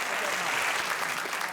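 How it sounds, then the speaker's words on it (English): Studio audience of a British comedy panel show clapping in a brief, even burst of applause, moderately loud and continuous throughout. "I don't know what you're applauding now."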